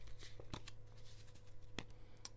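A tea leaf fortune card deck being shuffled by hand, a few quick riffling snaps and taps of cards against each other over a low steady background hum, close and fairly quiet, with no voices.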